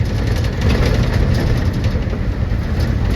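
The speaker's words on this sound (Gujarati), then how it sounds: "રેલગાડી જાય છે" Loud, continuous low rumble of a train passing close overhead on a bridge near Wankaner, steady and unbroken from start to finish.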